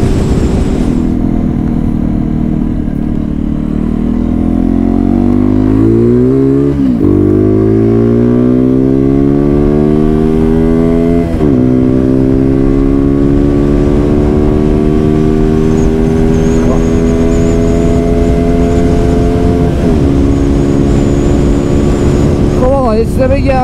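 An Apache 200 motorcycle on a test ride revs up and shifts through the gears several times, each rising engine whine dropping at the change, loud and close with wind noise throughout.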